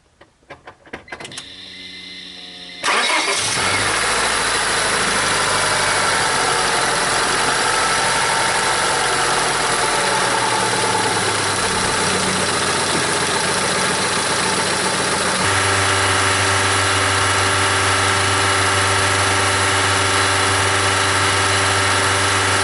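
A 2000 Honda Civic engine cranks briefly, catches and settles into a loud, steady run, held at about 3,000 RPM before the tone drops and steadies into a lower, even hum with clear harmonics.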